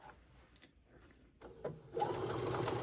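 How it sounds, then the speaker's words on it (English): A sewing machine stitches a patchwork tote bag seam, starting after a quiet moment of handling and then running in a loud, steady, close whir. "I'm just going to sew all the way around."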